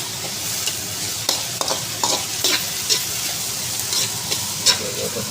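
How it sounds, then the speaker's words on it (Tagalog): Hotdog sautéing in a pan at home, a steady close sizzle with repeated stirring scrapes and clinks of a utensil against the pan, with no talk. "ginisa lang natin yung hotdog"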